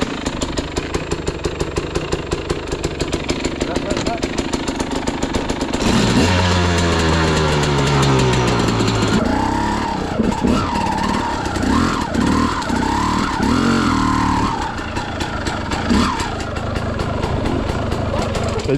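Enduro motorcycle engine revved repeatedly with clutch and throttle, steady loud running with a rising, stepping rev sweep midway, under intermittent talk.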